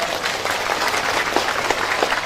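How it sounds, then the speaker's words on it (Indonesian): An audience at a religious talk claps in sustained, moderately loud applause, with a dense and even texture and a few sharper individual claps standing out. "boleh tepuk tangan"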